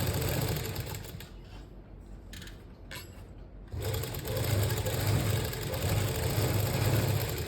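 Sewing machine running steadily as it stitches lace along the edge of fabric, a close mechanical whir that pauses briefly midway before resuming at a continuous hum.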